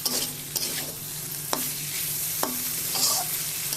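Curry spices with black cumin frying in a pan for a thin hilsa fish curry, a steady close sizzle broken by a few sharp stirring scrapes and clinks.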